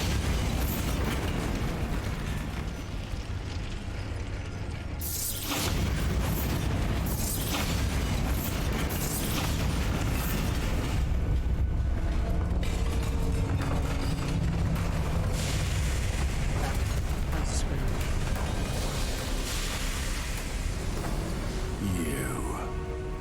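Bombarda blasting spell going off in Hogwarts Legacy, a loud burst that drops into a dense, continuous rumble of game effects and background score lasting a long stretch.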